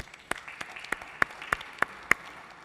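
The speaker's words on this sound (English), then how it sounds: "So we should give him a round of applause." Sparse applause from a conference audience at a business forum, a thin scatter of claps with a few sharp, distinct hand strikes standing out at an uneven rhythm against quiet background.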